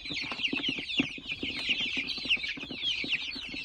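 Several chickens cluck steadily and close by, a busy overlapping stream of short calls from laying hens kept for two to three years, with no talk over them.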